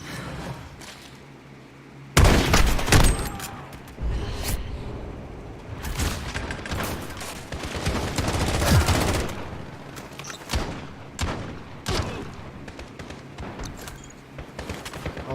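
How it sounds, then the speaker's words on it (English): Loud gunfire from a lever action rifle in a Call of Duty: Modern Warfare trailer, powerful shots and booms in irregular bursts with explosions and heavy battle sounds around them, close and dominant. "This is a lever action rifle here, guys."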